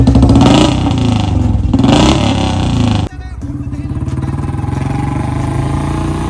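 A BS6 Royal Enfield Classic 350 with a C-bend pipe and long Punjab exhaust roars loudly under revving, then drops abruptly into a deep, steady, rhythmic thumping idle close by.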